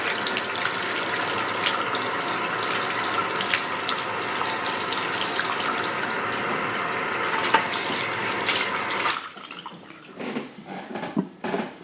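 Running water pours steadily from a tap for several seconds while rinsing hair with pins left in, then cuts off, leaving scattered splashes and drips.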